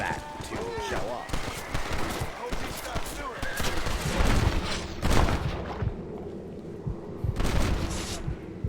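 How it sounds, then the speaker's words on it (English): Rapid, loud gunfire rings out in Red Dead Redemption 2, with repeated sharp shots in bursts over several seconds, layered with busy game ambience and hoofbeat-like clatter. "Shoot again, John."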